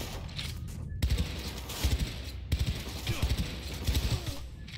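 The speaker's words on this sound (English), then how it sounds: "This gun here is not bad." Bursts of automatic gunfire from a weapon in the video game Cyberpunk 2077, coming in several short rapid volleys about every second amid steady game background noise, with some speech-like sound mixed in.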